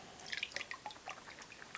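Water drips from diced onions in a quick, irregular patter of small splashes, faint and close, over about two seconds without speech.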